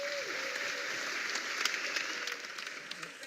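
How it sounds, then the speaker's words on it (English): A conference audience at Chrome Dev Summit 2016 claps for Housing.com, with steady applause and a brief tonal sound at the start. "Give a massive round of applause for Housing.com."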